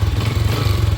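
A large starter motor cranks on a cheap 6.5 battery, a loud, close, steady low churning whir pulsing rapidly for the whole moment with no voices.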